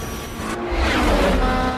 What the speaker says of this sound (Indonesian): Benar saja mobilnya langsung melaju kencang